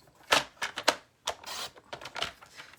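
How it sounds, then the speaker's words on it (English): Card stock being cut in half for Christmas cards: a few sharp, crisp, closely miked clicks and slicing bursts in quick succession, with short pauses between and no talking. "So we're going to cut it at the 1 1/2 mark,"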